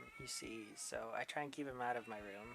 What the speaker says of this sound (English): Oh my god, he is voice crack meowing today.